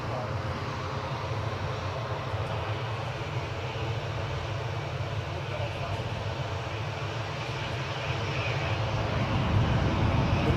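An Airbus A340 takes off at Newcastle, its four engines producing a continuous heavy roar with deep rumble that swells slightly toward the end.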